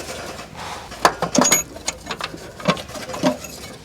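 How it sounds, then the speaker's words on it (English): 13mm starter bolts being removed from a GM 5.3L V8 truck, a close series of irregular metallic clicks and scrapes from a ratchet and bolts, with no talk. "Those are 13mm. There we go. Just pull those bolts out."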